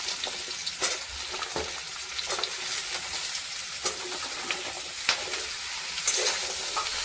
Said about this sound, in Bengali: পেঁয়াজটা একটু ভাজা হয়ে গেলে দিয়ে দিচ্ছি কেটে রাখা লাউটা।